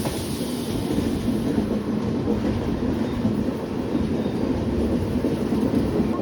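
Steady rumble of a train running on tracks at night somewhere on a Bengaluru to Mumbai route, close and continuous with a low roar and faint rattling, no voices.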